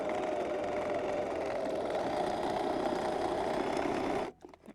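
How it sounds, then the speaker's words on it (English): A sewing machine runs a straight stitch on linen pants, a close, steady mechanical whir that holds evenly for about four seconds before stopping abruptly. "I'm just going to go ahead and sew a straight stitch on top of that"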